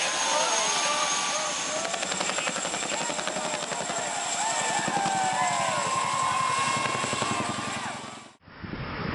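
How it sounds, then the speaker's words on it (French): A heavy-lift Chinook helicopter flies over a racetrack in Texas, delivering a race car, its thudding twin rotors and turbine whine steady and loud throughout before cutting off abruptly near the end. "Un Chinook lourd livre une voiture de course directement sur la piste au Texas"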